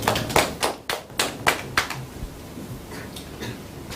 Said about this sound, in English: Round of applause to her.